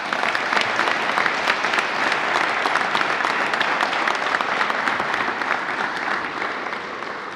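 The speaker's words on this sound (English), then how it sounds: "Can we all give a round of applause and warm welcome to Michael Klein" A large audience at a maritime college graduation ceremony gives sustained, loud applause, dense overlapping claps filling the room for over seven seconds and tapering slightly toward the end.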